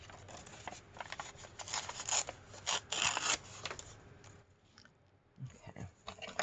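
Scissors snipping paper for a vintage-style calling card, a run of close crisp cuts and rustles, then a quieter pause before a few more handling sounds.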